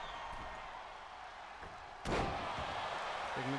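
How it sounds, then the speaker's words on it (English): A sudden heavy body-slam thud from a power slam in the WWE 2K25 wrestling video game cuts through a steady crowd roar, followed by a faint second impact near the end. "Nice power slam."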